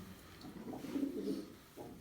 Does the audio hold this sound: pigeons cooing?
yes